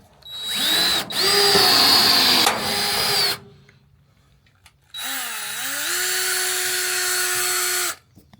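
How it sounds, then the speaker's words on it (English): A power rivet tool sets rivets during a van shower build, giving two bursts of high motorized whirring, each a few seconds long with a brief pause, loud and close with no talking. "So now I'm going to go through and finish up the rest of the rivets"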